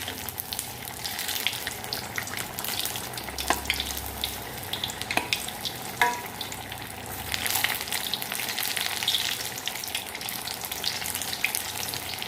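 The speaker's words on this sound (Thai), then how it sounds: "ทอดให้มันเหลืองเลยนะจ๊ะ" Vegetarian chicken deep-fries in hot oil until golden, a continuous bubbling sizzle with a few soft clicks and knocks of utensils scattered through it.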